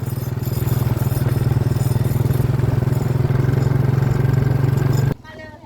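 Motorcycle engine running steadily and close for about five seconds while riding on a Thai road, with a loud, even drone that cuts off abruptly near the end.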